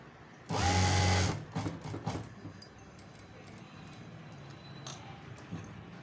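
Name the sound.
sewing machine stitching pot neck on blouse fabric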